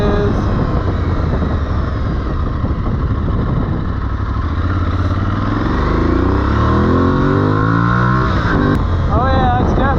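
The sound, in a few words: Aprilia Tuareg 660 motorcycle engine revving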